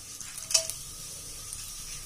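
Whole garam masala spices, bay leaf, black and green cardamom, cinnamon and cloves, sizzle in hot refined oil in a home kitchen; a faint steady hiss with a brief brighter crackle near the middle, no voices.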